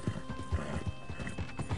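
Horse hooves clip-clop in a steady, repeating pattern with a neigh mixed in. The animal is a frightened horse in the video game Red Dead Redemption 2, heard up close and fairly quiet, with no talking over it.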